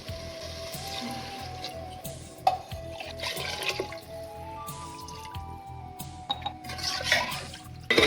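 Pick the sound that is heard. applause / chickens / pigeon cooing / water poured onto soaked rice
water poured onto soaked rice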